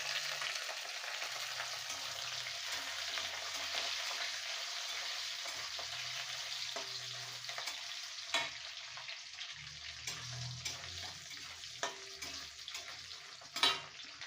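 Garlic and ginger fry in a pan of oil with a steady, quiet hiss, joined by a few soft clinks and scrapes of stirring.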